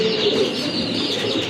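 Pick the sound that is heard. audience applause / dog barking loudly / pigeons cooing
pigeons cooing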